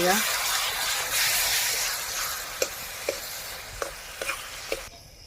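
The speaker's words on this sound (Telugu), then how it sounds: "గ్రైండ్ చేసి పెట్టుకున్నాం కదండి ఉల్లిగడ్డ పేస్ట్, ఇది కూడా వేసుకోవాలి. మంచిగా కలుపుకోవాలి." Onion paste fries in a pan for egg curry, a soft sizzling wash under a few sharp scraping and tapping knocks from a spoon stirring it, quiet and close, fading out at the end.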